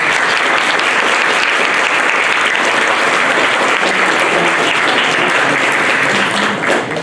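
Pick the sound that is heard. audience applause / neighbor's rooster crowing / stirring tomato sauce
audience applause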